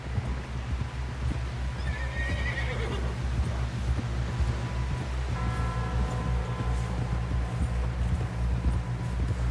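Horse in Red Dead Redemption 2 with a clear whinny and soft, steady hoof clip-clop over a dense game ambience, a rider pushing on toward camp.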